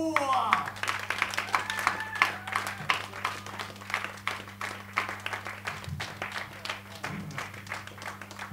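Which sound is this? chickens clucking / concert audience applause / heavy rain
concert audience applause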